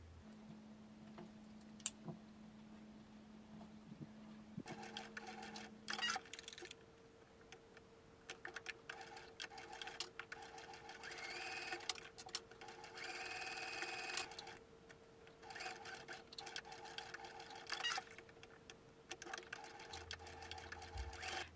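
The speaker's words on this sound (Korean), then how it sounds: "안감은 창구멍을 남겨두고 쭉 재봉해주세요." A sewing machine stitching the lining of a fabric pouch, running in several bursts of fast, rattling needle strokes with short quiet pauses between, close and clear with no voices.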